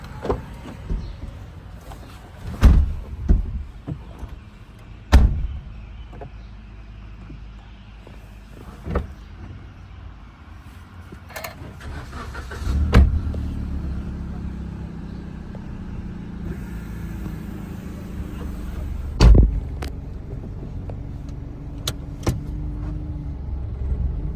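A Suzuki Swift with a manual gearbox runs with a low, steady engine rumble. Sharp clunks and thuds, like doors or body panels, break in every few seconds.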